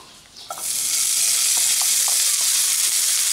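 Leftover pork belly stir fry hits a hot pan and breaks into a loud, steady sizzle, with a few faint clinks of stirring over the continuous frying hiss.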